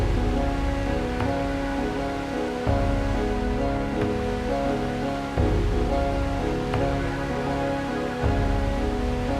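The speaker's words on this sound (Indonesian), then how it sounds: "Baru mulai memancing, ternyata hujan pun turun." Rain falls steadily beside a river during a fishing trip, a dense, even hiss of water that runs unbroken and fairly loud with no voices.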